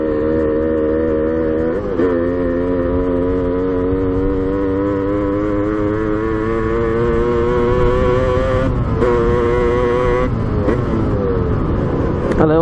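A Kawasaki KDX 125 two-stroke dirt bike on knobby off-road tyres, its engine revving loud and close in a long rising whine, with brief gear-change dips and pulls repeating through the run and no talking.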